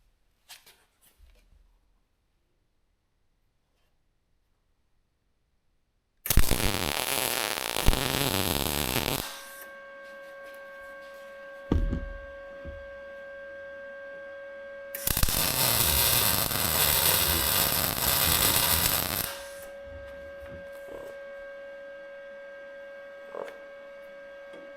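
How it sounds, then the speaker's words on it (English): Tack welding on a mini Jeep hitch comes as two loud, sustained buzzing bursts of several seconds each, separated by a steady electrical hum with brief clicks between them. "So let's get her tacked up real quick."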